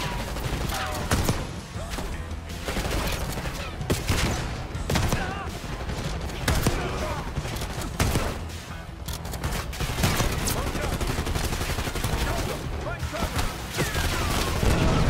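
Dragon's Breath shotgun blasts in the Call of Duty Black Ops 6 campaign amid dense, continuous combat gunfire, loud and close, with someone talking over much of it.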